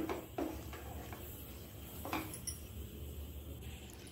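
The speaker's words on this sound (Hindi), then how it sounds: "इसे अच्छे से मिक्स करते हुए हमने इसे लो फ्लेम पे ही इसे चलाते रहना है" A spoon scrapes and clinks against a pan while kaju katli cashew mixture is stirred over a low flame, producing faint, sporadic metallic taps and scrapes over a quiet background.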